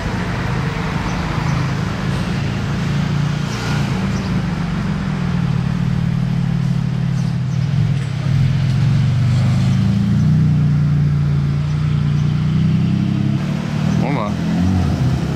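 A Porsche speedster pulling away in Monaco, its engine a steady, fairly loud low drone that swells slightly as it moves off, while someone talks over it.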